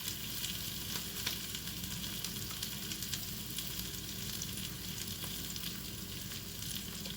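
A soft, steady sizzle of chicken frying in a pan, quiet and continuous with faint crackles, no talking.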